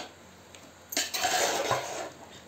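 Spices being mixed in a bowl for homemade mango pickle: quiet at first, then a brief scrape and a second of rubbing, clattering spoon-against-bowl noise, close and moderately loud, with no talking.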